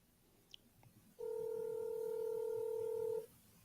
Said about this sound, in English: hear phone ringing